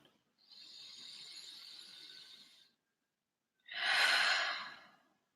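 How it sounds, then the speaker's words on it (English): A slow, soft breath is drawn in over about two seconds, followed after a short pause by a stronger, airy exhale, close and quiet during a guided meditation, with no voice over it. "Just take a breath in and out"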